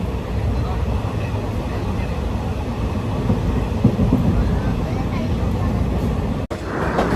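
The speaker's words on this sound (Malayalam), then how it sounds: "അനന്തമായിട്ട് നീണ്ടു കിടക്കുന്ന റെയിൽവേ പാതത്തിലൂടെ ഞങ്ങളുടെ ട്രെയിൻ ഇങ്ങനെ കുതിച്ച് പാഞ്ഞുകൊണ്ടിരിക്കുകയാണ്." A passenger train runs along the railway track at speed, heard from on board as a continuous low rumble and rattle of wheels and carriage, steady and fairly loud, with a brief dropout near the end.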